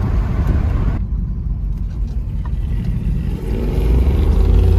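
A 1972 Chevy Cheyenne C20 truck, running again after sitting for 16 years, drives with a slipping transmission. Its engine gives a loud, steady low rumble throughout, easing briefly before building again toward the end.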